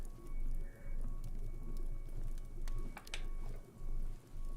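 Birds chirp and coo amid soft ambient rain in the video game Tell Me Why, a few sharp calls standing out over a steady quiet background.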